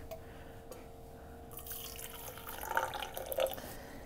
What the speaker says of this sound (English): I just put some of the coffee in, but not all. Just enough to like get everything stirred in.